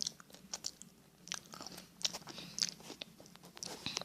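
Someone eating kimchi cheese fried rice, with soft close-up bites and chewing, small crunchy clicks and wet mouth sounds spread irregularly at low volume.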